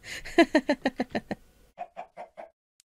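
A chicken in modded Minecraft clucks in a quick run of about seven close, even clucks, then four softer ones after a short gap.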